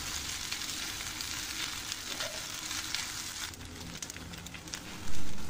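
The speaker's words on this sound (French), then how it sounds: "je l'ajoute aux oignons dorés. Et sur feu assez moyen, je mélange délicatement" Golden onions frying and being stirred over medium heat in a pan for egg fried rice, a steady close sizzle with soft scraping stirs throughout and one louder clatter near the end.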